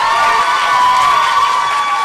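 A crowd at a youth poetry slam cheers and shouts at a steady level, loud and sustained, with applause mixed in.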